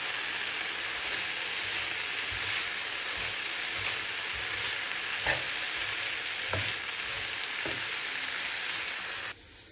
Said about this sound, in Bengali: আমার হচ্ছে আলু ভাজি হতে হতে আমি হচ্ছে এখানে বেগুন ভাজি করবো